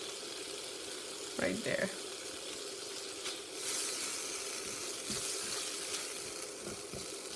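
Tomato and spices sizzle in oil in a pan while chana curry cooks, a low steady frying hiss heard close up, with a voice speaking briefly over it.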